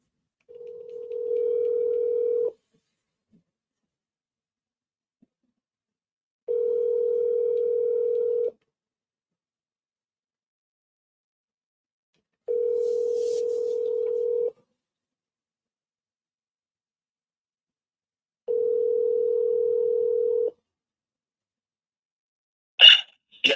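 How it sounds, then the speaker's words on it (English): An outgoing phone call rings out while waiting for an answer: four steady, evenly spaced ring tones about two seconds long, separated by longer silences, ending with a brief click. "let's see if he actually answers this phone."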